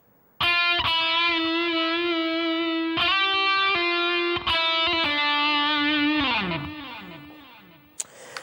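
A heavily distorted electric guitar plays a metal lick, sustained crunchy notes with sharp picked attacks and a descending slide near the end, loud and alone.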